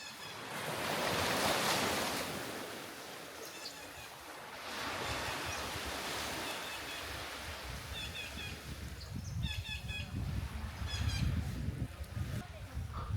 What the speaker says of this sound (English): There must have been dozens of species calling at once